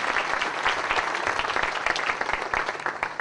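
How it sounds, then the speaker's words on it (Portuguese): A church congregation applauds during a service, dense sustained clapping from many people filling the room evenly, fairly loud with a low rumble underneath and no voices on top. "Quem pode aplaudir ao Senhor Jesus?"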